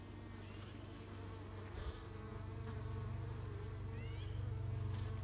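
Honeybees buzzing steadily around a hive entrance as foragers return with fresh pollen, a continuous low drone with a few individual bees passing close.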